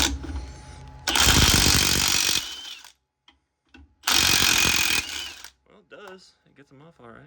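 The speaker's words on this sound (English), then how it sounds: "I'm curious to know if this mid-torque can get off these new spring hanger bolts" A Milwaukee mid-torque impact wrench hammers at spring hanger bolts on a 1966 Ford Falcon during a rear axle swap, with two loud rattling bursts of about two seconds each, close by, and someone talking briefly afterward.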